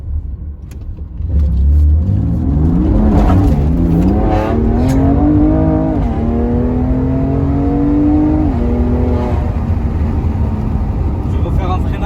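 A BMW car drives on a road, its engine climbing steadily in pitch as it accelerates, then settling into a sustained drone with road and wind noise, heard from inside the car.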